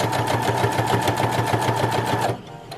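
A sewing machine runs steadily while stitching a reusable fabric face mask with elastic, a loud continuous rapid mechanical whir with rhythmic needle ticking that stops abruptly near the end, leaving quiet room tone.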